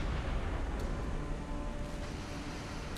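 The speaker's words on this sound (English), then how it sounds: "I'll take that explosion." A deck gun shell explodes in the Silent Hunter 5 submarine game, a dull, muffled rumble heard from a distance that lingers as steady low noise.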